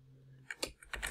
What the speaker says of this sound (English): This keyboard is too loud.